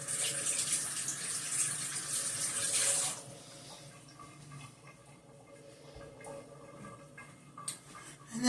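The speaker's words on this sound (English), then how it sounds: "So I'm just going to rinse my hands off here." Tap water runs steadily over rinsing hands at a kitchen sink, a broad hiss for about three seconds before the flow cuts off, leaving faint kitchen noise and drips.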